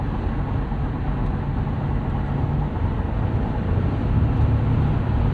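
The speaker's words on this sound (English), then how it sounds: "All right, kicking down a couple of gears, but getting us about 10 miles an hour up with about half throttle applied." A 2024 Toyota Tacoma SR5 pickup at half throttle, kicking down a couple of gears while passing: a steady low engine drone with road and wind noise that swells slightly toward the end.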